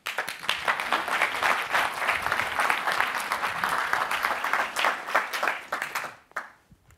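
Conference audience applauding to welcome a speaker at the G8 Innovation Conference, a broad, sustained wash of clapping from a large crowd that fades away near the end.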